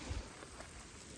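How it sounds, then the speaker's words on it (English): Rain, with a little hail mixed in, falls steadily around a hiker sheltering under a tree on a high-country trail, a soft continuous patter without voices. "It's raining right now."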